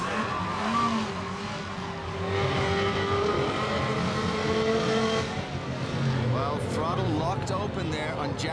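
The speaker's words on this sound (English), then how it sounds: "Oh, has to jump away from the sled. Oh, look out. Throttle is stuck." After a rider bails off during a snowmobile Best Trick competition run, the sled's engine, its throttle stuck open following the crash, revs and whines steadily at a distance beneath excited event commentary.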